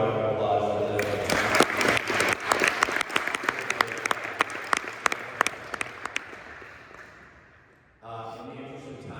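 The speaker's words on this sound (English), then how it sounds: "can we have a round of applause for that?" An audience claps for a speaker's talk, with sharp individual claps standing out over a steady crowd, tapering off before a voice starts speaking near the end.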